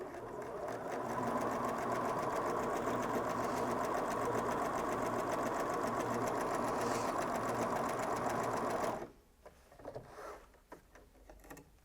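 A Bernina S-325 sewing machine stitches a seam through thick denim, running at a steady, loud mechanical whir for about nine seconds before stopping abruptly, followed by faint handling clicks.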